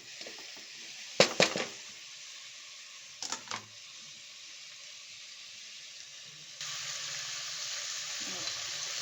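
Chopped tomato sizzles in a pan of chicken gravy base, a steady faint frying hiss broken early by a few sharp clattering knocks, the sizzle swelling louder near the end.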